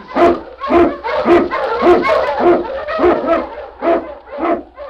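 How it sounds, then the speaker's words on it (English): Husky sled dogs in a Yukon radio drama bark and yip in rapid, overlapping bursts, loud and close with no pause. "On King! On you Huskies!"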